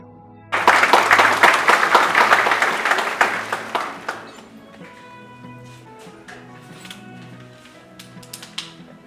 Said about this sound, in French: je vous prie d'applaudir encore pour mon confrère pour sa présentation